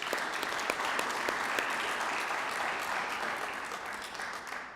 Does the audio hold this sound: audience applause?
yes